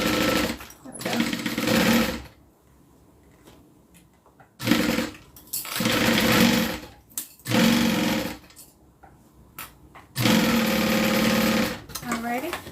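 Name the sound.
sewing machine stitching a mini zip around wallet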